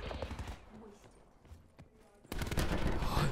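Rapid gunfire from Call of Duty: Black Ops 4 bursts loudly at the start, then thins to sparse shots before a dense, sustained volley returns near the end.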